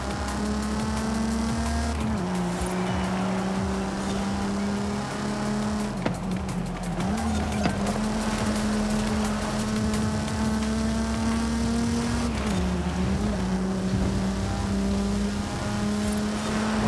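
A car in the Forza Horizon 5 racing game holds a steady, droning engine note that dips and rises with shifts, while the tires squeal and scrub throughout. No one talks.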